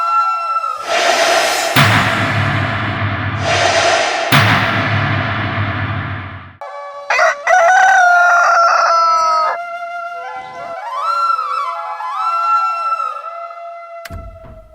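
A person imitates a rooster crowing, loud near strained crows followed by warbling clucking calls in a dramatic scene from a Nepali web series, with a sharp sound at the very end.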